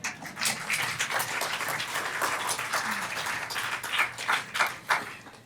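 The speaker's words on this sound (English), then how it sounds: "See, the claps were less when I said that" Light, scattered audience clapping at a race and resistance panel talk, a soft steady patter of many hands with a few sharper claps standing out near the end, no voices over it.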